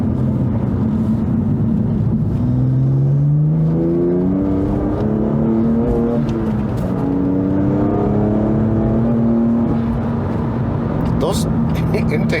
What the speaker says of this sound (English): Those intakes are loud.